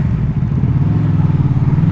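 Honda VFR800F motorcycle with an SC Project Conic exhaust, DB killer removed, riding on the road: a steady low engine drone with rhythmic pulsing, fairly loud and close, mixed with road and wind rumble.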